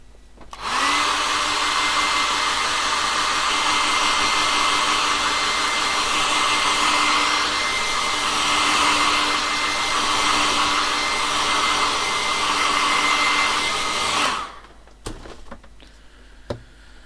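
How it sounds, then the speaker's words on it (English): A hairdryer blows loudly and steadily for about fourteen seconds, drying freshly painted miniatures, then cuts off, leaving faint clicks and handling noises. "So I'm going to give these a quick blast with the hairdryer, so they're perfectly dry."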